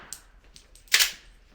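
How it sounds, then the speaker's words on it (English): A single sharp gunshot cracks inside a school building during an active shooter response training exercise, a bright close burst standing out against a quiet indoor room with faint background noise. "Upon hearing the first shots fired, building security and administration initiate a school-wide lockdown"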